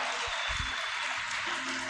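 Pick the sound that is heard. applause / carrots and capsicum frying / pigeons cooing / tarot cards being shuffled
applause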